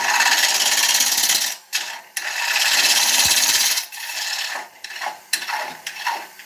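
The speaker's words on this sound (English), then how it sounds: "So I'm just going to take a couple of shear cuts from the centre out" Shear cuts on a beech bowl spinning on a wood lathe, a loud hissing tool cut in several bursts separated by short pauses, close up and without talk.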